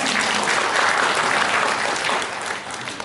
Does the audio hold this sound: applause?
yes